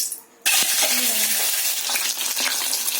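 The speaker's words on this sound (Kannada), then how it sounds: "ಈಗ ಇದನ್ನು ಎಣ್ಣೆಯಲ್ಲಿ ಫ್ರೈ ಮಾಡಿರೋಣ" Peeled boiled eggs drop into hot oil at about half a second, setting off a loud, bright, continuous sizzle close by, with faint clinks of a utensil underneath.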